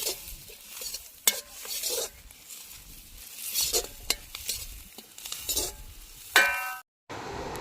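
Onions frying until golden for a duck fry, a steady sizzle broken by several sharp scrapes of stirring, close and moderately loud with no voices.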